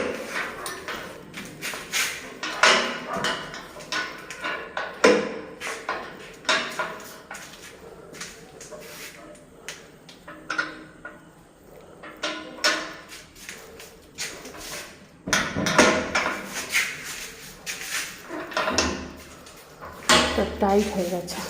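A stuck, tight gate being pushed and forced shut, giving repeated clanks, scrapes and knocks in irregular bursts, fairly close, with someone talking over it.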